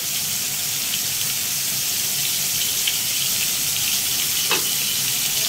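Minced meat, spice paste and chopped green chillies sizzle and fry steadily in a pan, a continuous close hiss with faint clinks, no talking.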